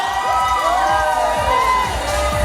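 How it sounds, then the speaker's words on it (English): Wedding reception crowd cheering for the bride and groom, with rising whoops and shouts over a steady rhythmic thump of music, loud and close. "Make some noise for the bride and groom"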